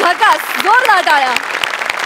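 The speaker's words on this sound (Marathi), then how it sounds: "जोरदार टाळ्या." Loud applause from a comedy TV show's studio audience breaks out right after a sketch. The clapping runs under a voice that carries on through the short burst.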